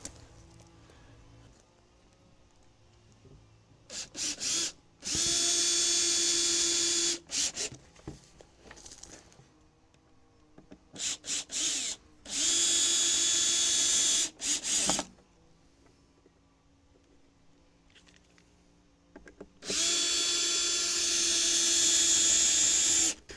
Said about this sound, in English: Now, a couple of screws to hold that in position.